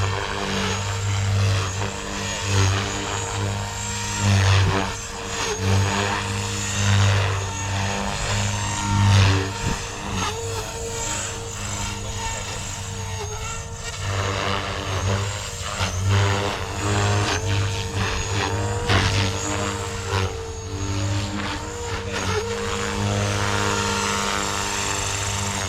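Blade Fusion 360 RC helicopter with 350 mm blades and KST servos spinning steadily at 3250 RPM, a loud sustained whine and rotor drone with slight surges, close and continuous with no talk.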